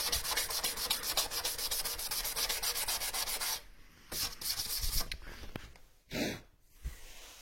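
120-grit sandpaper scrapes paint off a surface in quick, rhythmic rubbing strokes, loud and close at first, then breaking into shorter separate strokes with audible breaths between them.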